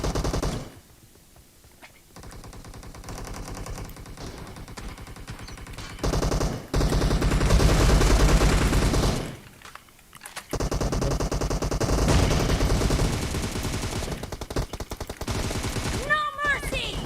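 Gunfire in PUBG Mobile, with long bursts of loud automatic fire broken by brief quiet gaps and a few single shots.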